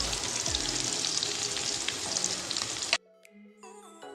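Julienned garlic and ginger sizzle loudly in hot oil in a kadai, a dense continuous frying hiss that cuts off abruptly near the end, leaving faint tonal ringing.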